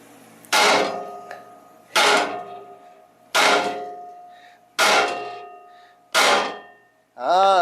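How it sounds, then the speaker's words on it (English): Steel hammer striking the gearbox shaft of an Ariens ST824 snowblower, five loud metallic blows spaced about a second and a half apart, each ringing and decaying, with a short metallic squeal at the end. "Why the hell am I using a regular rubber mallet when all I gotta do is use a regular hammer?"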